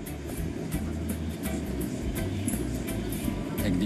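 A strongly vibrating passenger train with rattan-seated carriages in Madagascar: continuous heavy low rumble and rattling with steady clatter, loud and unbroken throughout, no talk over it.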